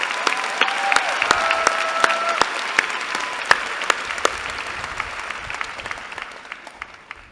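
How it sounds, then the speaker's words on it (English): A commencement audience at UC Berkeley's School of Information applauds award winners, sustained crowd clapping at moderate level that slowly fades toward the end. "Please applaud all of our MIDS Awards winners."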